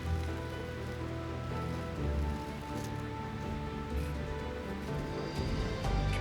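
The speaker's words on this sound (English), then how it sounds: "This one I'm going to just drizzle in." Colored resin drizzled onto a wood tray, a soft continuous patter and trickle like light rain, steady and close, with no talk.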